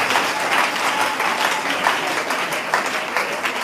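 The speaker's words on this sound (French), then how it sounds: "Est-ce qu'on peut acclamer pour le Seigneur?" A church congregation applauds and cheers for the Lord, dense clapping from a crowd filling the whole moment at a steady level.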